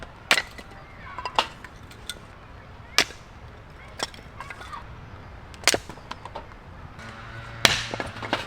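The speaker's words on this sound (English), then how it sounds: "I just really like splitting wood." Wood being split outdoors at a campsite beside a fire pit, sharp chopping impacts landing at irregular intervals, about eight distinct cracks of moderate loudness over a quiet outdoor background.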